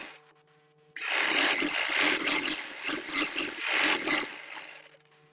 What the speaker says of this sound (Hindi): ये अब मैं सबसे पहले जो फ्रंट पार्ट है इसके आसन की मैं सिलाई कर लूँगी इस तरीके से